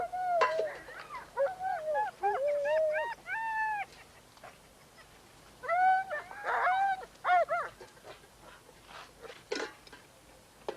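Sled-working huskies yelp, whine and give rising whimpering cries in bursts, close and fairly loud, with short pauses between volleys of excited calls.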